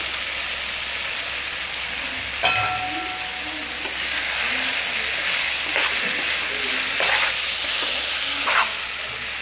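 Brinjal curry with soaked chana dal simmering in a pan, giving a constant loud sizzle and bubbling with a few stirring scrapes and clinks, close up and with no speech.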